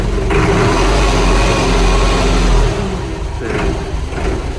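A Solis 110 4x4 tractor engine roars loud and near, holding a strong steady rumble before dropping back toward a lower idle.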